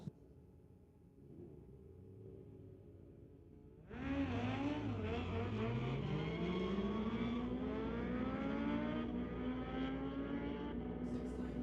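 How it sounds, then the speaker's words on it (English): A 2012 Kawasaki and a 2009 motorcycle in a street-legal drag race at Mission Raceway Park. A low rumble gives way to a sudden loud launch, and the engine roar climbs steadily in pitch as the bikes accelerate away. "The 2012 Kawasaki going up against the 2009 machine for TK Performance."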